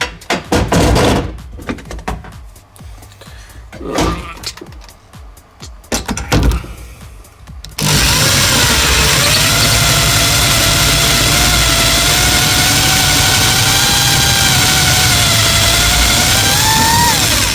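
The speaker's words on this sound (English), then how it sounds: "did you hear the drill pick up speed then?" A power drill gives a handful of short mechanical bursts and pauses, then picks up speed into a steady, loud whirring drone that holds constant for about ten seconds, with a rising whine riding on top.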